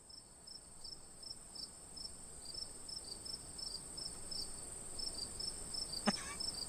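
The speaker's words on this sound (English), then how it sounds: "can you put like crickets during that quiet part for me, please?" A cricket chirps in short, regular pulses at a quiet, even pace, like a sound effect laid over near-silence, with one brief click close to the end.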